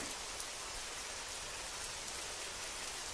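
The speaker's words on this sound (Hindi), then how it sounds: "वो बारिश हो रही है" Steady rain falls evenly as a soft, continuous hiss with faint individual drop ticks, a quiet, unbroken wash with no voices over it.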